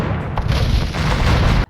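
Cannon fire in the video game Age of Empires II, French artillery in a battle against British longbows, a dense loud barrage of booming shots blending into a continuous rumble that cuts off abruptly, with no speech.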